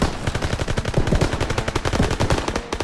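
Machine guns firing in the World War II shooter Call of Duty WW2, a loud, close, continuous rapid stream of shots with several guns overlapping in dense, rattling bursts.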